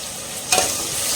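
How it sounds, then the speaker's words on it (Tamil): Onions sautéing with rock salt in a pan, a steady frying sizzle with a brief stirring scrape partway through, close and moderately loud with no talking. "வெங்காயம் நல்லா வதங்குற அளவுக்கு நம்ம வெங்காயம் வதங்கணும்"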